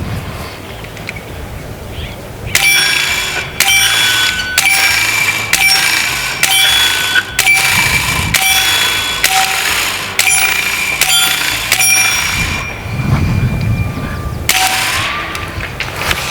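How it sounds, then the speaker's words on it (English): PCP airgun firing extended-magazine slugs: around a dozen sharp, evenly spaced metallic cracks, each with a ringing, whining ricochet tail, loud and close in an outdoor setting. "Leave a like for that cool ricochet sound if you heard that."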